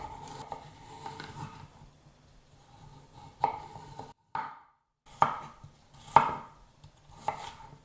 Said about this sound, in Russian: Нарежу морковь соломкой.